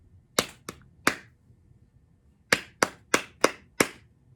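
A teacher claps out a rhythm in a music lesson: three sharp, close hand claps in an uneven pattern, a pause of over a second, then five more evenly spaced claps, crisp and clear with no talking.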